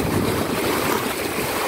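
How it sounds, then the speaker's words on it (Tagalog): Strong sea surf at the Infanta, Quezon shore churns in a dense, continuous roar with heavy wind buffeting the microphone. The sound is loud and close, with no break. "Lakas-lakas ng alon mga guys."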